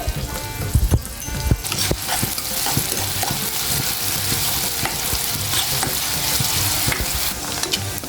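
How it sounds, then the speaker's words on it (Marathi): Chopped onion frying in hot oil for a sprouted chana masala, a loud steady sizzle with scraping stirs and clinks of the spoon against the pan, no voices. "तेल गरम झाल्यावरती आपण याच्यात घालणार आहे कांदा कांदा थोडासा परतून झाला की"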